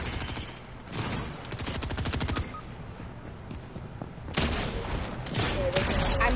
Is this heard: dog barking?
no